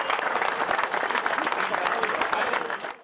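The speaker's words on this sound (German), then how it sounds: "Nochmal einen Applaus für alle, die unseren Verein verlassen." Football club fans at FSV Zwickau's season-end celebration clap for departing players, a dense, lively burst of many hands with crowd murmur, sustained before fading abruptly at the end.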